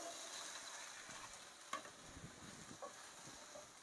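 Chickpeas tipped into roasted masala and stirred in the pan, a faint soft sizzle with scraping spoon strokes and a couple of small knocks, quiet and close.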